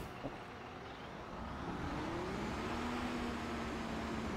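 A flatbed truck with a loading crane drives in a construction simulator game, its engine a steady low drone that rises slightly in pitch as it pulls away, alone without talk.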